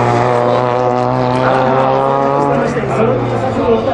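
A Honda CR-Z with a 1500cc hybrid engine runs on a race track, its loud, sustained engine drone rising and holding close by, with a voice talking over it.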